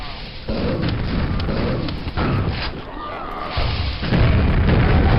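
Grenades burst one after another in the video game Quake, heavy booming blasts and rumbling crashes layered over loud, continuous game noise, close and dense.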